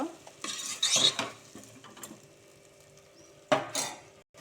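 A spoon stirs cucumber sambar in a cooking pot, giving a few quiet scraping and clinking strokes with short pauses between them and no talking.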